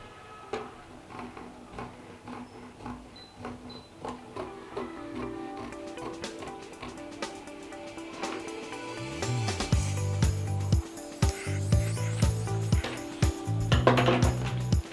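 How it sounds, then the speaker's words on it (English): Scissors snip through cape fabric in a steady run of soft, close clicks, with a tonal background coming in during the second half. "So now I'll be cutting out the second piece"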